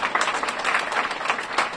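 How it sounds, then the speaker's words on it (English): A crowd applauds for the mayor at an annual Point in Time Count event, a dense, steady wash of many hands clapping at once, fairly close and sustained throughout. "So a round of applause for that."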